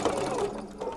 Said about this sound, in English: I'm actually just going to back stitch all the way across again.